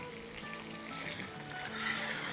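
Chicken karahi masala sizzles and crackles in a pan as it is fried and stirred, a steady mid-level hiss with occasional scraping, no talking.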